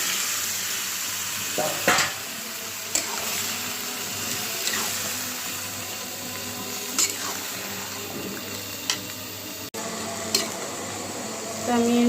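Potatoes and meat frying with spices in a pan make a steady, close sizzle, broken by occasional sharp scrapes and knocks of a spoon stirring the pan.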